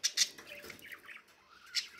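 A parrot squawks in harsh, close bursts, two quick calls at the start and another a second and a half later, with softer chirring in between.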